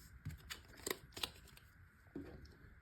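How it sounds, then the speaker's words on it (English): Playing cards being shuffled back into a deck during an IronFlight tabletop game: a few soft, quick riffling and tapping bursts, quiet and close, with no talking. "Shuffle these back in."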